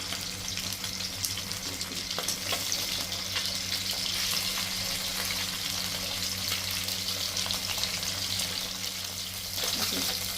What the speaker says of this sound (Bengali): কই মাছগুলোকে আরেকটা সাইড ভাজার জন্য উল্টিয়ে দিচ্ছি